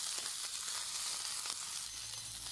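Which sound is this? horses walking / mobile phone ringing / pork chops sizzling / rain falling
pork chops sizzling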